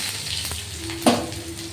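Onions sizzle and crackle in hot oil with tempering spices, close and fairly quiet, with a brief clink and stir partway through.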